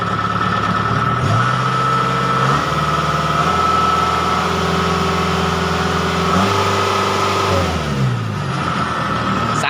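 Kubota combine harvester engine fitted with a governor spring, running loud and close, its revs rising and falling in several steady steps between idle and higher speed.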